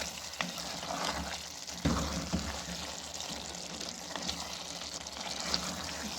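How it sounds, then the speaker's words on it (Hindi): Minced meat with red chilli powder and crushed chillies sizzles steadily in a karahi, a dense hiss with occasional scraping stir clicks close by, no talk. "ये डाल के इसको अच्छी तरह भूनेंगे कि मसाले का कच्चापन ख़त्म हो जाए"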